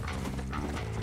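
A brief burst of galloping horse hooves in Red Dead Redemption, a loud close clatter of rapid hoofbeats over low game music, with no talking.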